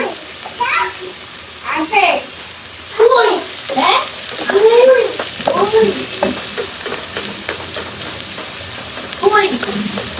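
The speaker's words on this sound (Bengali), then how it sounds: "ভালো করে পেঁয়াজটা ব্রাউন কালার হয়ে এই সামান্য মেথি দিয়ে দিব ফ্লেভারের জন্য" Onion browning in a pan with a little fenugreek sizzles steadily underneath someone talking through most of the stretch.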